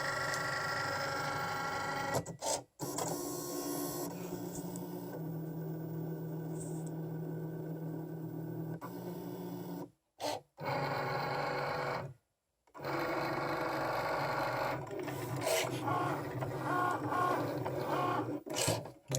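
A Cricut Maker cutting machine runs close by with a steady mechanical whirring and rattling hum, pausing briefly a few times and shifting pitch as the carriage moves across the material.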